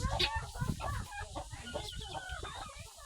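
Turkeys cluck and gabble nearby in a busy, uneven stream of calls, with faint voices in the background.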